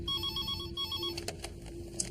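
A telephone rings in a police CID office, a steady electronic trill repeating over about two seconds with faint room noise and no talk.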